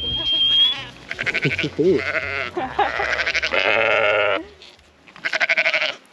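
Coburger Fuchsschaf sheep bleating at feeding time on a farm, several loud wavering bleats close by, mixed with a person talking and a brief high whistle-like tone.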